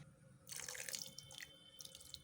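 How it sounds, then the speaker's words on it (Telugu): Water is poured into a pan of simmering egg curry seasoned with tamarind pulp, a short, close splashing pour with no talking. "మళ్ళీ కొంచెం వాటర్ పోసి"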